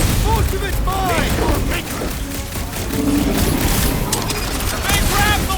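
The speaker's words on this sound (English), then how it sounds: "Sounds like a lot of flark and gunfire." Heavy gunfire and explosions rumble through a combat scene in the video game Guardians of the Galaxy, dense and continuous with booming blasts and rapid shots, while voices talk over the fighting.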